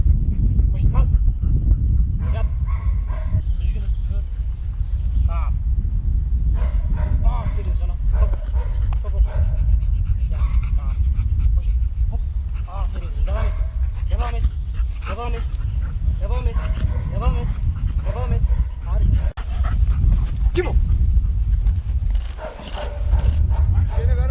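Gendarmerie detector dogs barking, yipping and whimpering in repeated bursts throughout, fairly near, with people talking over them much of the time.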